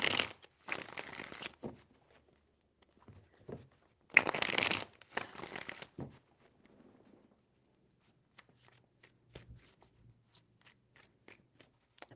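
Playing cards are shuffled in two brisk, crisp bursts, followed by softer taps and handling of the deck.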